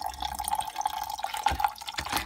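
Petrol draining from a non-running Honda generator into a tub, a close steady trickle and drip of liquid with a few louder splashes.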